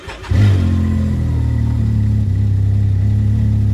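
Can-Am X3 side-by-side pulling away, its engine rising from idle into a steady, loud drone with a strong low hum that holds through to the end, with no talking.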